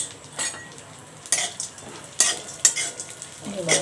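Dry fruits roast in ghee in a pan, a soft, continuous sizzle broken by several sharp scrapes and clinks of a spoon stirring against metal, close and fairly quiet.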